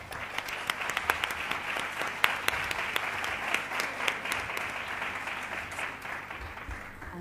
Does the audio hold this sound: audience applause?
yes